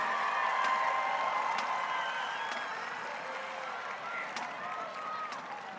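A stadium crowd at a Kansas high school football game applauds and cheers for the Eisenhower High School band and Tigers, a steady, distant wash of clapping and shouts with scattered whoops.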